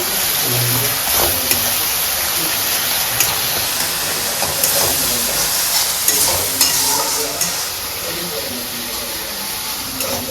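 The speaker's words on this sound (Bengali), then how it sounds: "2 মিনিটের মতন আমি খোলা রাখা ভালো মতন ভেজে নেব" Taro and prawn curry frying in an open pan makes a loud, continuous sizzle with steady hiss and occasional stirring clicks throughout, close up.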